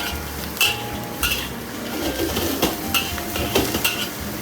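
Prawns pan-frying with garlic in a pan, soft sizzling under repeated clinks and scrapes of a utensil against the pan, close and fairly loud without talking.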